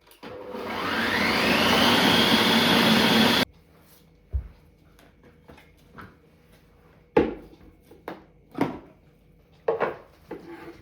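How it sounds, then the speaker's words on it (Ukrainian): A blender roars loudly for about three seconds blending frozen fruit and honey into ice cream, its whir rising steadily, then cuts off, followed by scattered clunks and knocks of kitchen handling. "Далі ми вмикаємо наш блендер та збиваємо морозиво."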